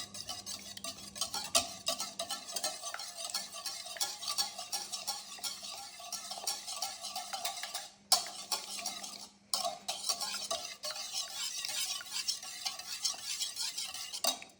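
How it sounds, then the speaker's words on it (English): Eggs with pepper stirred in a bowl, a continuous close scraping and clinking of a utensil against the bowl's sides in quick repeated strokes, with no talking. "then just stir it up again"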